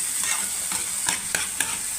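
Tomatoes and onions fry in a pan over peppers, with a steady sizzle throughout and a few sharp clinks of a utensil as the mixture is stirred.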